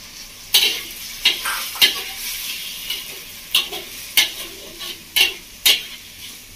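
Chicken being stirred in a pan with green chilli paste for Bengali village-style chicken ghugni: a steady sizzle of frying broken by sharp, irregular scraping stirs, close and fairly loud, with no voices.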